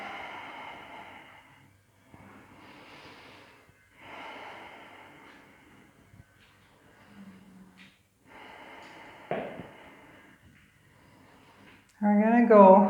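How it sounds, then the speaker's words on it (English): Slow, deep breaths taken during a yoga class, several long audible inhales and exhales close to the microphone with pauses between, ending with a louder voiced sound. "I'm going to take a couple breaths here."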